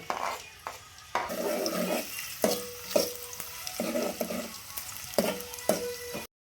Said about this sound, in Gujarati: હવે ડુંગળીને નાખી દઈશું અંદર અને ચારથી પાંચ મિનિટ અને શેક થવા દઈશું